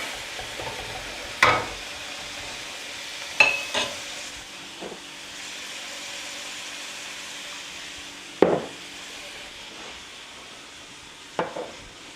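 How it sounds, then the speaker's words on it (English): Onion cooking in a wok, a faint hiss of frying broken by a few sharp clanks of a utensil against the pan, close and otherwise quiet with no voices. "We're going to let that onion cook for a minute."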